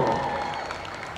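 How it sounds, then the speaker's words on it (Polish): Brief applause from a crowd at a charity concert, a burst of clapping that fades over about a second, heard with a voice speaking over it. "Brawa dla niego."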